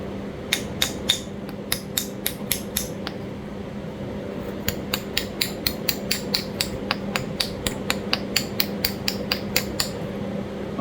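Flintknapping at an anvil stone: a stone preform is struck against it in sharp, clicking impacts, loose bursts early then a steady run of regular taps, close and fairly loud over a low constant hum.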